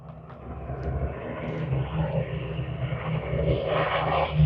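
Avro Lancaster bomber flying overhead at a seaside air display, a distant droning piston-engine rumble that swells gradually louder as it approaches.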